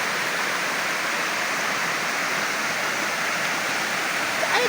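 Libtong Falls roars in a dense, steady rush of falling water, loud and unbroken throughout with no voices over it.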